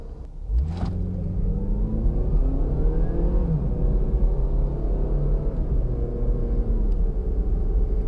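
A 2017 Toyota RAV4 LE AWD pulls away, its engine rising steadily in pitch under a constant road rumble, heard from inside the cabin for several seconds with no voices.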